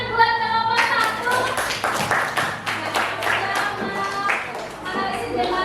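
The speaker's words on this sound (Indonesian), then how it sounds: "Tepuk tangan buat kelompok 1." Classroom applause for a student group: a burst of many hands clapping close by, irregular and lively, continuing for several seconds with a brief quieter start.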